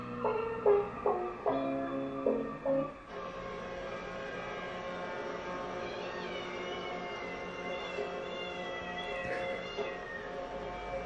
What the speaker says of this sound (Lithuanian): Visos kanalams yra mini video apie kates.